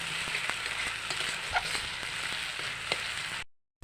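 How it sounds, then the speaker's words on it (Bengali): Fish frying in a pan with mustard paste, a continuous close crackling sizzle with small pops, alone without voices, cutting off abruptly near the end. "এখন এটাকে কিছুক্ষণ ভেজে একটু লাল লাল করতে হবে।"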